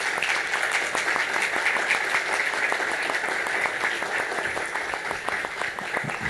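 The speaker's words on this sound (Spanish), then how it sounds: "Fuerte aplauso." Loud, steady applause from a large audience at a talk, dense clapping filling the whole stretch without pause.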